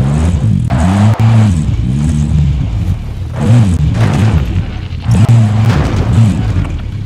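A car driven in the Call of Duty Warzone video game roars steadily and loudly, its engine rising and falling through repeated revving and gear shifts, with occasional thuds and no talking.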